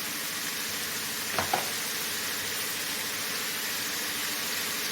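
Bitter gourd sautés in a covered pan, giving a steady, fairly quiet sizzling hiss that runs throughout, with a couple of faint clicks early on.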